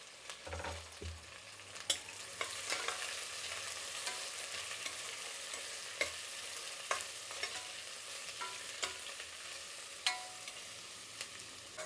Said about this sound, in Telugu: ఇప్పుడు ఎర్రగడ్డలు బాగా వేగాలండి.